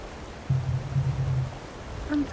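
Steady rushing water from a waterfall in the video game Elder Scrolls Online, a continuous broadband wash of moderate level with a low hum underneath and a brief tonal blip near the end.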